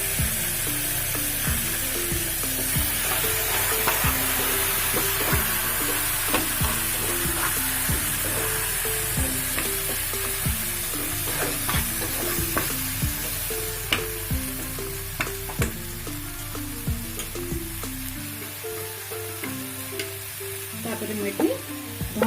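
Ground masala paste fries in a pan with a dense, constant sizzle. A spoon stirs it in regular, rhythmic scraping strokes throughout, heard up close.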